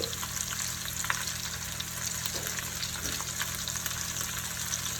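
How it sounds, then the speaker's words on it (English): Onions frying in a pan with sausage and potatoes, a steady close sizzle that runs the whole way through with small crackles and spatters. "I'm going to throw my onions in now."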